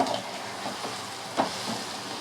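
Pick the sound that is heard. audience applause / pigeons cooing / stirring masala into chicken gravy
stirring masala into chicken gravy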